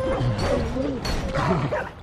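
A puppy enemy in the Guild Wars 2 video game barks and yips, several short close barks over roughly two seconds, mixed with background game noise and voices.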